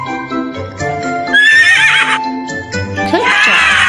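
A horse whinnies loudly in a shrill, descending neigh, followed by a second whinny after a brief pause, with faint hoof clip-clop and a lively backing of music.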